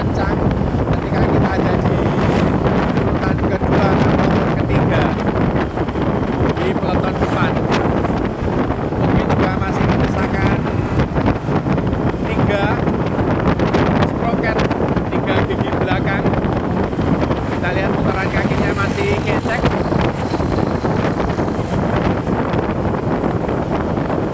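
Strong wind blows head-on into the microphone on a boat at sea, a loud continuous roar and buffeting that never lets up, with water noise and talk partly buried beneath it.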